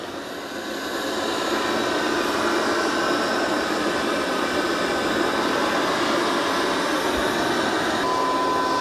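A Dreame X30 robot vacuum mops with its spinning mop pads, giving a loud, steady whirring drone that rises at the start and holds evenly throughout.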